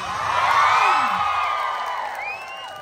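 A crowd at a political gathering in Batangas cheers loudly, a dense roar of shouts and whoops that swells and then slowly fades over a few seconds.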